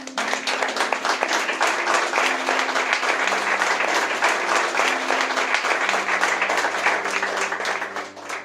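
Sustained audience applause at a Spanish-language church service, dense steady clapping lasting throughout with a low sustained tone underneath.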